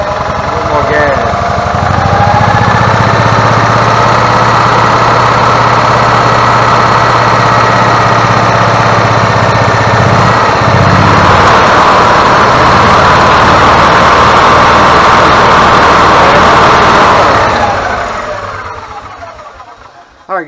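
A gas golf cart engine that is not charging its battery runs loud and close, its rough idle climbing and rising under added throttle before winding down, with voices talking over it.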